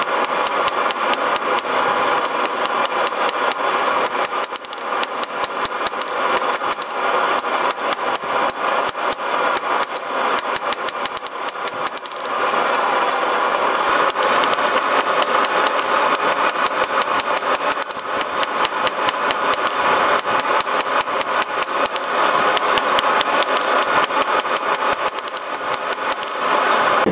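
Continuous rapid mechanical pounding of a power hammer drawing out feather Damascus steel, loud and relentless, with a steady motor drone beneath the repeated strikes.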